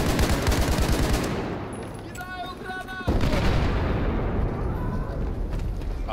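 A grenade explosion and gunfire in the video game Battlefield 4, with heavy bursts of shots and blasts, a short lull with ringing tones, then a sharp renewed boom and continued rumbling fire under excited talk.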